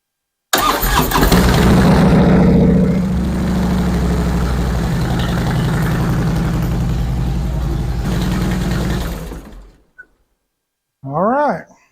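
A 2012 Harley-Davidson Softail Heritage Classic cranks and fires up loudly up close, settles into a rumbling idle for several seconds, then shuts off into silence before a brief voice speaks.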